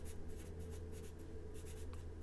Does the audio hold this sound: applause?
no